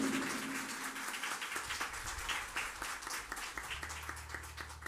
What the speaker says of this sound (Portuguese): Palmas para o maestro Maninho